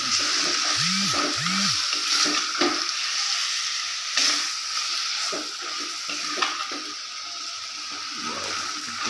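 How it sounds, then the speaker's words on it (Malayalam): Beef roast stirred in a pan after garam masala goes in, with a steady sizzle of frying under repeated scraping strokes of a spoon, close and continuous. "ഗരം മസാല ഒന്ന് കുറച്ചിട്ട് കൊടുക്കട്ടെ നമുക്ക് ഇളക്കി കൊടുക്കാം"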